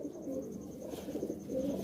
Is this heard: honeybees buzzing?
no